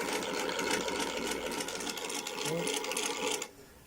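An overlock sewing machine runs steadily and loudly after its dead control board was repaired, a dense whirring buzz that stops abruptly near the end.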